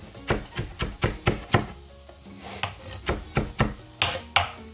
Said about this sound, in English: This is a rocking motion. You're just rocking your knife.